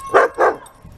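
Whippets barking: two sharp, close barks in quick succession, then quiet with faint background noise.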